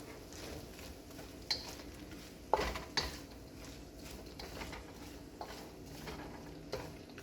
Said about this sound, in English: The chili and the onions that we cut, and mix it up.